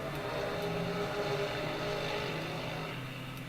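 Honda NSX race car in a racing video game, a steady droning engine hum with layered tonal whine held at a constant level, mid-distance and continuous throughout with no talking.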